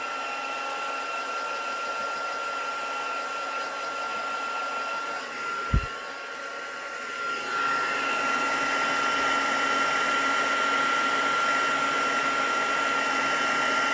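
Heat tool warming a stamped card, a steady blowing whir like a small hair dryer that runs on, briefly dips after a sharp knock, then resumes louder and holds, close and with no talk.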